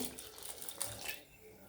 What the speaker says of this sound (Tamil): கொஞ்சம் தண்ணி ஊற்றி